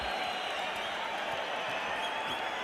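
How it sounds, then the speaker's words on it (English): Arena crowd at a Mike Tyson versus Steve Zouski boxing bout, a constant roaring wash of cheers and applause that stays loud and even throughout, with a commentator's voice faintly mixed in. "And now the crowd roaring even more"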